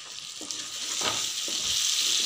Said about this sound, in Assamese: মাছখিনি কেঁচা থাকোতে হাতনিৰে লৰাবলৈ সুবিধা হয়